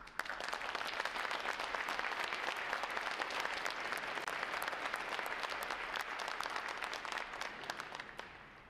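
Warm, sustained applause from a large audience at a Navy Recruit Training Command graduation ceremony at Naval Station Great Lakes, dense and even before fading off at the end.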